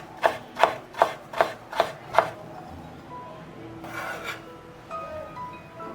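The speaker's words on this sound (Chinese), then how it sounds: "然后切碎。" A knife chops pickled mustard greens on a cutting board in six sharp, evenly spaced close strikes, followed by softer scraping and rustling of the chopped leaves.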